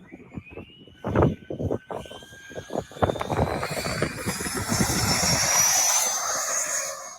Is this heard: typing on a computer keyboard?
no